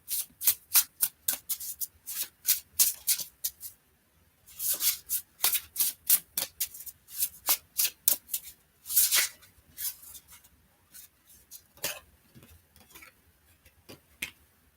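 Tarot cards are shuffled by hand before a single card is drawn: rapid rhythmic riffling bursts in quick runs, pausing briefly and resuming, close and fairly quiet, with no talking.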